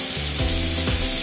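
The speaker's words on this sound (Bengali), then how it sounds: "এখন দিয়ে দিচ্ছি আমগুলা।" Mango pieces hitting hot oil seasoned with panch phoron for a sweet-sour mango chutney, a loud close sizzle that flares as they go in, with brief stirring and no talk.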